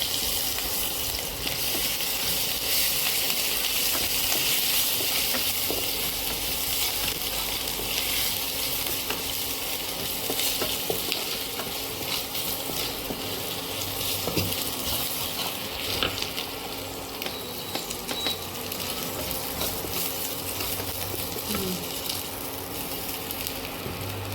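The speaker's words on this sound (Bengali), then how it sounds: "আর 3টে তেজপাতা দিলাম, দিয়ে একটু ভালো ভাজা ভেজে" Steady, continuous sizzling of bay leaves and spices frying in hot oil for vegetable dal, close and fairly loud, with occasional stirring scrapes throughout.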